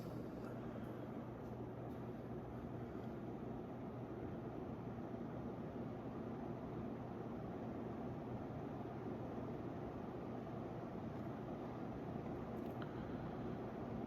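A 42-inch S.M.C. Royal Flush ceiling fan runs at high speed with slightly warped blades, giving a steady, broad whooshing drone with a constant low hum that stays even and unbroken throughout.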